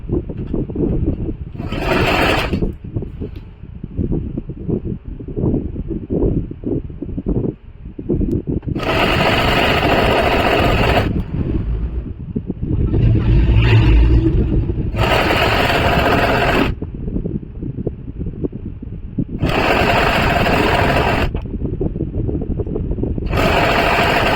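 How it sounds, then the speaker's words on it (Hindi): Sewing machine stitching the seam of a lined salwar, fabric and lining joined together, running in four loud sustained bursts of whirring needle clatter separated by quieter handling and low machine hum. "अब दोनों को चारों को यहाँ पे मिला के फिर लगा देंगे सिलाई।"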